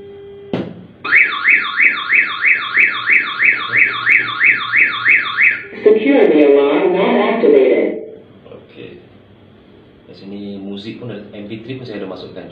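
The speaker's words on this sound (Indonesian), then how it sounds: "Turn on alarm. Your motorcycle is secure right now." A loud electronic motorcycle security alarm whoops in rapid repeating sweeps, then gives way to a burst of chirps and electronic tones, with a voice speaking afterward.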